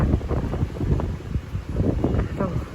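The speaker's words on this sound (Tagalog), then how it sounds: "Kaya to, ang lakas ng hangin. Pumunta kayo rito, malakas ng hangin." Strong wind buffets the microphone in a steady roar with rumbling gusts, and faint voices are barely audible underneath.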